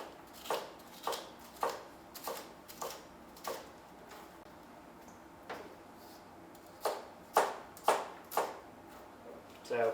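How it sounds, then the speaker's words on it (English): A knife chops pepper on a board in irregular sharp knocks, single and paired, close and distinct, with quiet gaps between and no voice over the strokes. "So once you've chopped the pepper"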